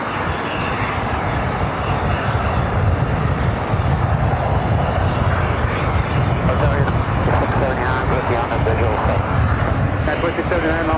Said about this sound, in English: A lot of those planes on the north side going up just like rockets.